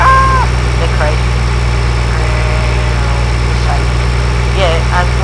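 Milk truck engine idling in Farming Simulator 2013, a steady loud low rumble with constant hum throughout, with a voice talking over it.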